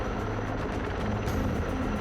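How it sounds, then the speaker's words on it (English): Erickson Air Crane heavy-lift helicopter flying while carrying a full-scale spacecraft in a captive-carry test near mountains, a steady continuous rotor and engine roar held at constant loudness with no talk. "an Erickson air crane helicopter lifted the full-scale spacecraft"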